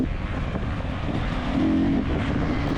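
An enduro race car pulls away from the start cautiously, its engine holding a steady droning note that rises slightly and swells in the second half, heard fairly close with no voices.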